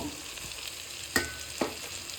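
Fried potatoes go into a hot pan of cooking spices: a steady, close oily sizzle with two sharp stirring clatters, one near the middle and a softer one shortly after. No voices.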